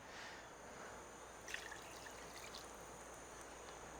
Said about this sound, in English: now we're going to add a little bit of water to this.